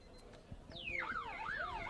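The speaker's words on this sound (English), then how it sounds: "And that's a siren in the background." A wailing siren rises and falls at a distance behind crowd murmur at the end of a rugby third place playoff at St Mary's, its sweeping tones starting partway through.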